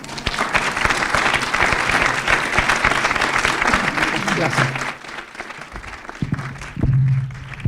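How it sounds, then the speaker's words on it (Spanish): Applause for a researcher after an academic talk, a loud, sustained clapping from an audience that thins out partway through, with a voice speaking over it. "Fuerte aplauso para el investigador"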